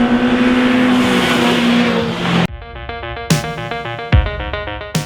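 A Toyota AE86 coupe's engine drones steadily and loudly up close while driving for a couple of seconds, then gives way abruptly to music with sharp hits.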